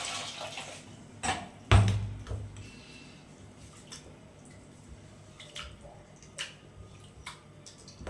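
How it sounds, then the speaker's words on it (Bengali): Rice being washed by hand in water to feed stray dogs, with soft intermittent splashes and drips and a sharp knock early on, heard close and fairly quiet. "চাল ধোয়া হচ্ছে।"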